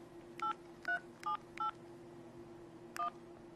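Five short keypad tones from a mobile phone while a text message is typed in T9 predictive mode, four in a quick even run and one more after a pause, faint over a low steady hum.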